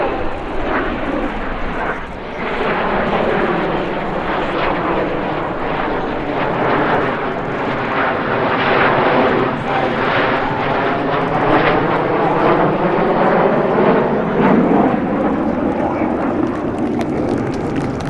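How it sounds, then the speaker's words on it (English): RAF Red Arrows Hawk jets power rolling in formation at an airshow, a loud, sustained jet roar that swells and holds steady as the formation passes overhead, with no one talking. "They're now going to power roll all 7 aircraft with the colour coming on through the vertical."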